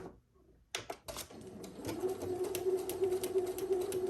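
Home sewing machine stitching and back tacking a quilt block seam, starting with a few short mechanical bursts, then settling into a steady, continuous whirring hum close by, with no talking.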